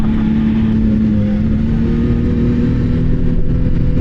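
A race car cruising around a track at about 30 mph, its engine giving a loud, steady droning hum with a constant pitch, and no voices heard.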